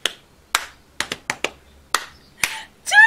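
Sharp, crisp claps struck in a loose rhythm, about eight separate hits spaced unevenly, close and distinct against near silence, followed by a brief voiced sound.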